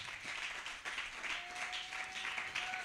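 A church congregation applauds at a faint distance, a steady wash of clapping lasting a few seconds with a sustained tone behind it.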